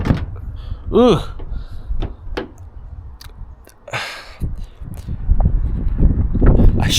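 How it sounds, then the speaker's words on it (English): A door is shut near a parked car with a single dull thump partway through, among rustling, handling noises and spoken remarks. "I shut the door"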